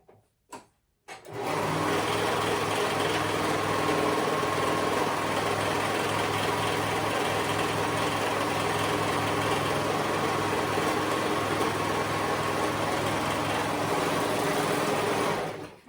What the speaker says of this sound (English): we're gonna go ahead and sew that pant leg together